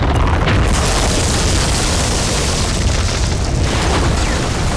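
A deep, roaring boom from an earthquake shock wave in the Adibou video game rumbles loud and continuous, with heavy low rumble and a broad noisy wash throughout, no talk.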